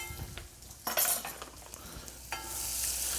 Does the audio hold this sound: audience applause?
no